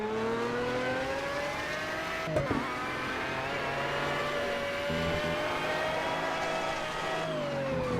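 An Aston Martin race car in the Project CARS racing game holds a steady high engine drone, with a brief crackle and dip around the middle as it backfires flames, then climbs again, alone and loud.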